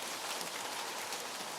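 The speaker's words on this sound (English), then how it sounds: "And ooh, it's raining." Rain falls steadily outdoors after dark, a continuous soft hiss of drops on surfaces, fairly quiet and without any talk over it.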